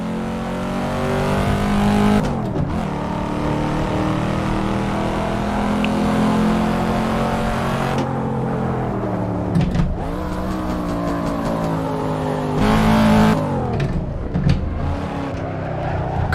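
Race car engine in the Assetto Corsa racing game, droning steadily and loud with several rev swells and dips as gears change, no talking.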